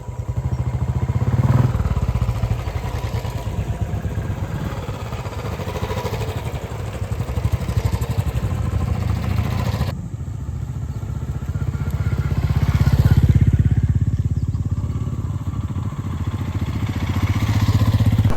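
Motorcycle riding on a weekend trip through rural Purulia, with a loud, continuous engine hum and wind rush close by, rising and easing with speed across the ride.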